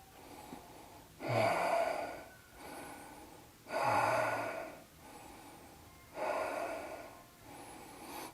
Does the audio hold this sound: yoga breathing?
yes